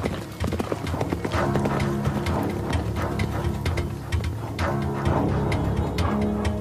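Horses' hooves clip-clop rapidly as courier relay riders gallop along an ancient Roman road, a loud, dense run of hoofbeats over a swelling music score, with no talk.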